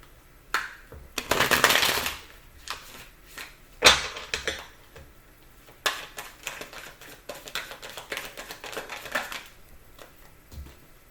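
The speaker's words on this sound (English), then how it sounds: "One more shuffle." A deck of tarot cards being shuffled up close, several riffling bursts and softer shuffles with short pauses between them, quiet and alone with no voices.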